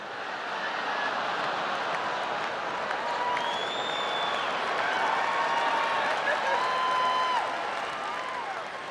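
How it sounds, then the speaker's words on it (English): A comedy audience claps steadily across the whole stretch with a dense, even wash of applause and some crowd noise, loud and continuous with no single voice standing out. "You try and get groans and applause on the same joke."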